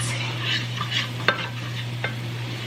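A metal utensil stirs a thickening roux in a metal pan, soft scraping strokes over a faint sizzle, with a couple of sharper clinks standing out.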